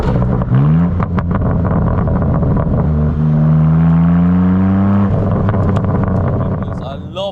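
A 2024 BMW M4 Competition fitted with M Performance parts burbles and rumbles while being driven, its engine note rising and holding loud and close, with an excited voice talking over it.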